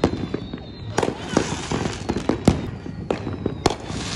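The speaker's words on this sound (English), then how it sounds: "Fireworks everywhere." Fireworks pop and burst repeatedly outdoors, sharp bangs at irregular intervals over a steady crackling background, some loud and close, others more distant.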